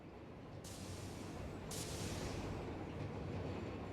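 A train in the factory-building video game Satisfactory rolls along, a faint steady rail rumble with two brief brighter hissing bursts partway through.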